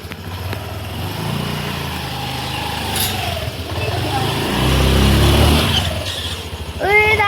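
A motorcycle engine revs up steadily and roars loud and close, rising toward the end, while people chat over the noise.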